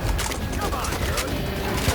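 Gunfire in the co-op shooter Back 4 Blood, with a dense, continuous barrage of shots mixed with background game noise, under faint voices of players talking.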